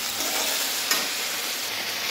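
Okra (bhindi) frying in a pan with turmeric and salt, a steady close sizzle with faint stirring scrapes and one small sharp tick partway through.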